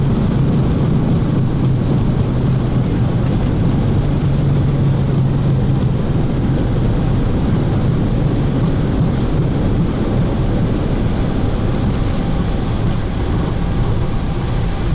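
Boeing 737 landing rollout on a gusty, windy day: a loud, steady roar of reverse thrust and braking fills the whole stretch, dense and unbroken, with rumbling low-end and wind buffeting throughout.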